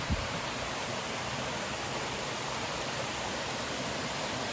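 A small waterfall on the Foothills Trail in South Carolina, a steady broadband rush of falling water, constant and fairly loud, filling the whole stretch without a break.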